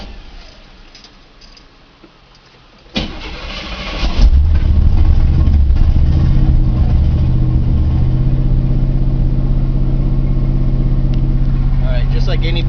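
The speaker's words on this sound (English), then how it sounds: "This is a cold start. Extremely cold start." The 454 big-block V8 in a 1987 Chevy truck cold-starts after days unused: a quiet lead-in with some talk, a sharp catch, then a loud, deep, steady rumbling idle up close.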